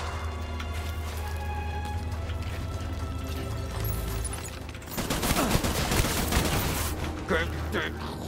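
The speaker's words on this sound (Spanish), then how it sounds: "Voy a escoger la pistola que él tira al suelo y reventarlo a tiros." A rapid burst of pistol gunfire in Death Stranding erupts after a quieter stretch of ambient game sound, sharp repeated shots crackling for a few seconds.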